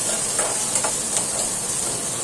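Onions sizzle steadily in a hot pan for a vegetable dish, a constant close frying hiss with faint scraping touches and no voices.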